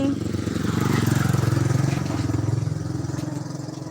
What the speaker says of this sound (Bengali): ওই দেখ গাড়ি আসছে